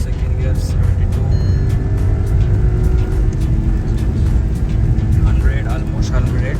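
A Skoda Kushaq 1.0 manual car pulling hard in second gear, its engine note steady and loud from inside the cabin with continuous road and wind rumble beneath and a voice talking over it.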